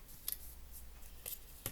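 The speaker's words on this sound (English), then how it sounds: "let me cut a piece off of that" Scissors snipping a piece of paper for a crafting project, three crisp, quiet cuts spaced roughly a second apart over a soft background hiss.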